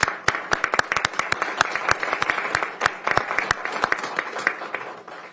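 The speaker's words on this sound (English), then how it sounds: "Please join me in a round of applause." Applause at a county council meeting after a resolution is adopted: scattered, uneven claps from a small group, individual hand claps standing out sharply, moderately loud and continuous throughout.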